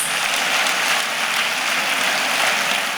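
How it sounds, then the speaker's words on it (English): An audience at a conference gives a sustained round of applause, a dense, even wash of many hands clapping with no voices over it. "I think Reverend Anthony deserves another round of applause."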